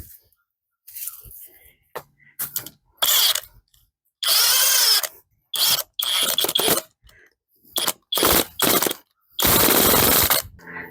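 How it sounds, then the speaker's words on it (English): A power drill drives a lag bolt down into wood in a garden project, firing in repeated short bursts and longer loud runs separated by silences, close to the microphone. "And we'll just drill it all the way down."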